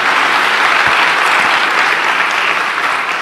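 Loud, sustained audience applause at a campus talk event, a dense wash of clapping from a large crowd filling the whole stretch without letup.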